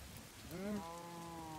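Steady rain falling in the ATM Gravitas 2 video game, a soft continuous hiss with a low moo-like tone drifting over it partway through.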